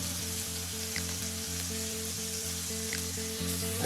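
Onions fry in a pan for a creamy chicken dish (pollo alla panna), giving a steady close sizzle throughout, with a repeating tonal melody running underneath.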